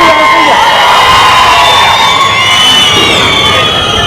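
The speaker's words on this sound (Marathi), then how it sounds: "नुसतं टाळ्या वाजवून नाही चालणार" A large crowd at a Shiv Sena election campaign rally in Maharashtra cheers and shouts in a loud, continuous roar, with whoops and high voices rising above the din.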